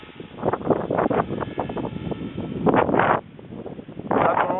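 Gusty wind buffets the microphone outdoors where a drone flies, giving loud rumbling surges that rise and fall in uneven bursts.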